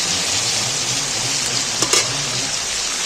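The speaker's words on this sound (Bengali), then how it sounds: "টমেটোটাও ভাজা হয়ে গেছে ঘেঁটে গেছে আর পেঁয়াজগুলো লাল হয়ে ভাজা হয়ে গেছে" Onions and tomatoes fry in hot oil with a steady, close hiss and sizzle from start to finish, with a brief scrape of stirring near the end.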